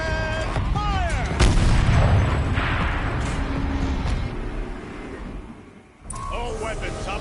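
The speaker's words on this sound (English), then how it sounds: "And fire!" Heavy turret cannon fire in Horizon Zero Dawn, loud booming blasts rolling over several seconds, then a brief drop and a fresh burst with voices talking over it.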